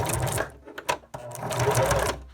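Sewing machine stitching a lock stitch through Velcro hook-and-loop on a patch, a close, steady mechanical whirring broken by a brief pause and short stops, then running on again.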